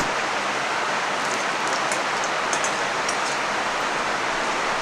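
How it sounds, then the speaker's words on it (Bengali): Whole cumin, bay leaves, dried red chillies, cinnamon, cloves and cardamom frying in hot oil in a pan, a steady dense sizzle that stays even throughout, close and fairly loud with no talk. "ফড়ংটা ভালো করে ভেজে নিচ্ছি"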